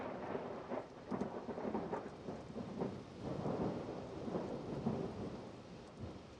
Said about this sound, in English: Think about a thunderstorm.